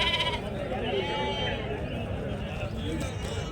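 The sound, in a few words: rams bleating at a sheep market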